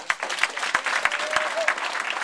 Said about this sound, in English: So another round of applause for all of you guys.